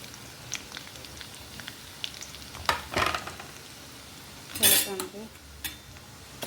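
Chicken masala frying in a pan with onion masala, a low sizzle broken by metal spoon scrapes and clinks against the pan, two louder stirring bursts near the middle and end.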